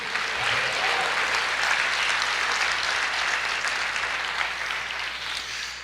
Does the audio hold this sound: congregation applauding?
yes